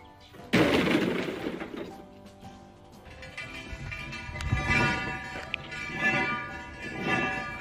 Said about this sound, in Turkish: Resmen videonun tamamı buz kırma videolarından oluştu ya.